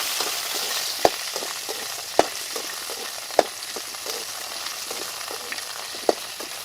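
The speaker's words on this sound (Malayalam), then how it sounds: "നമുക്കിനി ഇതിലേക്ക് വെണ്ടയ്ക്ക ഇട്ട് കൊടുക്കാം ഞാനിവിടെ നാല് വെണ്ടയ്ക്ക മുറിച്ച് വെച്ചിട്ടുണ്ട് അത് ഇട്ട് കൊടുക്കുക നന്നായിട്ട് ഇളക്കാം" Cut okra frying in a pan for Kerala sambar crackles in a soft continuous sizzle, punctuated by several sharp spoon clinks on the pan as it is stirred.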